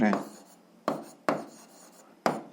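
A pen writing out the answer to a grade 7 algebra word problem, four short scratchy strokes in quick succession, close and distinct, with a voice talking faintly in between.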